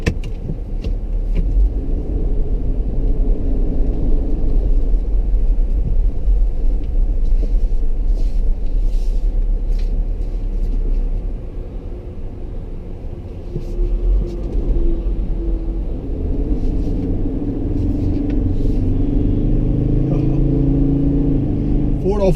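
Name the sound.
2016 Ford Endeavour 3.2L diesel SUV driving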